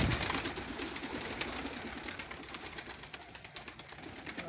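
Flock of pigeons cooing in a steady, overlapping chorus of low murmuring calls, fairly faint and continuous throughout, with no voices over them.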